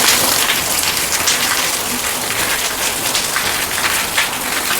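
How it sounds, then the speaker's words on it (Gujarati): Heavy afternoon rain pours steadily onto surfaces nearby as a loud, dense, unbroken hiss and patter lasting throughout. "અત્યારે છે ને સારો વરસાદ આવે છે."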